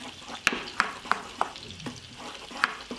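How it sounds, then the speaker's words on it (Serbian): A spoon stirs flour frying in a pan, a low sizzle beneath sharp, irregular scraping clicks roughly every third of a second, close and clear with no talking. "odmah ćemo promešati i propržiti 20 sekundi"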